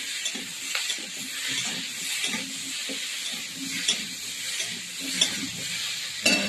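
Tender Malabar spinach greens and stalks frying with fish head in a pan, a continuous close hiss and sizzle with occasional spatula scrapes and clinks, no talking.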